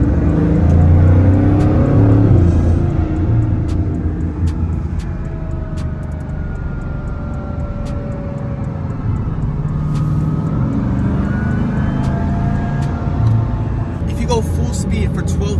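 A Bugatti Chiron Super Sport with 1600 hp pulls hard along a road, its engine a sustained roar with rising and falling pitch under excited voices talking and shouting throughout.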